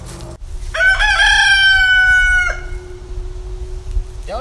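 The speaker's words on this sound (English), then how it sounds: "Don't you just always love how the old rooster announces I'm coming?" A rooster crows loudly nearby, one long cock-a-doodle-doo rising then held before cutting off, followed by quieter background clucking.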